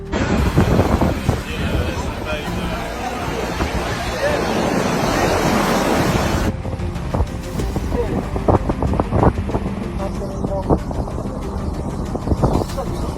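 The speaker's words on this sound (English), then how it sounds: "Waves seize control, tossing the vessel like a toy." Heavy storm surf pounds a loose 94-foot yacht adrift off Hawaii, a dense, loud continuous roar of breaking waves and wind buffeting, shifting partway through to sharper splashes and bangs.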